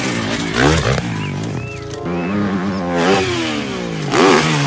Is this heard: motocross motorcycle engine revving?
yes